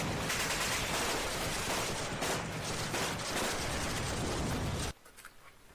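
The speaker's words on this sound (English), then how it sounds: "Multiple machine guns firing at once." Several machine guns open up at once in a dense, continuous roar of overlapping shots, loud and steady for about five seconds before cutting off abruptly into near silence.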